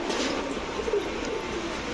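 Pigeons coo softly at a pigeon farm, a low murmuring of birds close by, steady and fairly quiet throughout.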